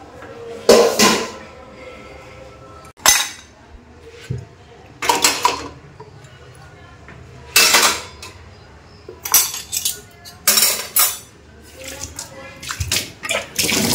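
Washed dishes and pots are set down one after another to drain in a home kitchen, giving a run of close clattering knocks and bumps with watery sloshing between them.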